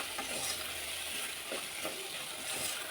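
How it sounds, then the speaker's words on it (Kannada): Fresh green peas fry in oil for a masala gravy, a steady soft sizzle with faint stirring scrapes throughout, close but quiet. "ಇದನ್ನು ಆಯಿಲಲ್ಲಿ ಫ್ರೈ ಮಾಡ್ಕೊಂಡ್ರೆ ಸಾಕು"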